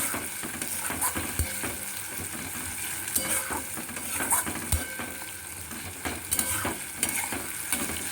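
Spices and turmeric sizzling in a hot pan for chhana bahari. A constant frying hiss runs under frequent spatula scrapes and light clinks against the pan, close up, and no one speaks.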